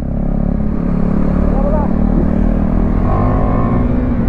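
Motorcycle fitted with a decat exhaust pipe, its engine running loud and close with a throaty, sustained rumble and a rev rising midway, while someone talks over it.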